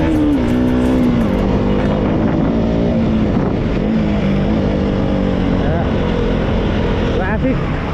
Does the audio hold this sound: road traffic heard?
yes